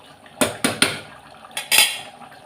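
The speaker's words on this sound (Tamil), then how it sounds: "கிரேவியை கொஞ்சம் பெரட்டி வச்சுப்போம்." A metal spoon scrapes and knocks inside a pot of thick chicken gravy, several sharp clanks in quick succession followed by a longer scraping stir, close and loud with no talking.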